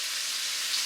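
Pieces of meat sear in a hot pan with a steady, bright sizzle that holds even and fairly quiet throughout, with no voices.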